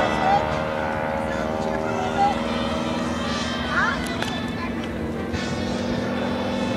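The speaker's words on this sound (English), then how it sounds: "rolling the aircraft now to the inverted, holding it there momentarily." An aerobatic stunt plane performs at the California Capital Airshow, rolling to inverted and holding there. Its propeller engine gives a steady, continuous drone from a distance that hardly changes in loudness throughout.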